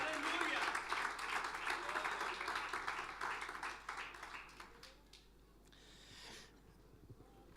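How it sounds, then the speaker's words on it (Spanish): Congregation applauding in praise during a Spanish-language church worship service, dense clapping that gradually thins and fades out over several seconds, with voices mixed in. "Fuerte ese aplauso de alabanza al Señor."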